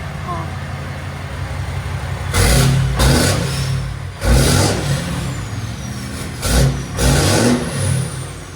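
A Ram 2500 with a 6.7L Cummins diesel and straight pipes revs hard several times in quick bursts, roaring loudly over a rough idle between each blip.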